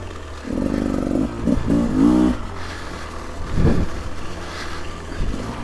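Beta 300 Race Edition two-stroke dirt bike, a 2024 model, ridden on trails, its engine rising and falling in short revving bursts over wind noise and clatter, close and loud without talk.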